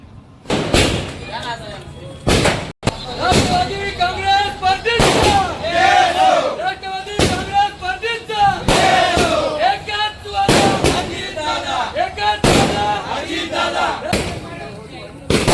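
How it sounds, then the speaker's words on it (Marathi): Diwali firecrackers bang out near a temple, loud sharp cracks scattered across the scene, while a large crowd chants slogans over them and voices shout throughout. "दिवाळीच्या पार्श्वभूमीवर फटाक्यांच्या आतिषबाजीने आणि घोषणाबाजीने मंदिर परिसर दणानून गेला होता"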